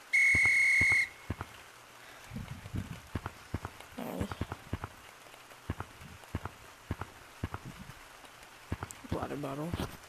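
A short, shrill electronic whistle tone from a video game opens the clip, then gives way to scattered clicks and soft taps.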